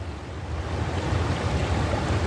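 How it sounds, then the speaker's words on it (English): Choppy river water rushing along a stretch of river at Lindsay Park in Calgary on a summer day, with a steady broadband wash and low rumble. The flow stays continuous and close, with some wind buffeting the microphone and no voices. "it's a bit choppy here, the water"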